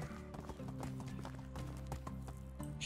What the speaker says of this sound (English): You're quite a fine looking horse.